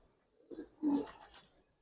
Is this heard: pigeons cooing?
yes